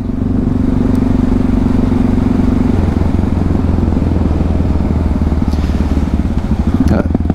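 Yamaha MT-03 660 motorcycle engine revving as it accelerates, a loud close rumble with a steady drone that shifts partway through and continues to the end.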